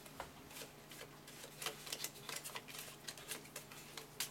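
Playing cards being shuffled, a faint, quick patter of riffling snaps and flutters in uneven bursts, close but quiet, with no speech.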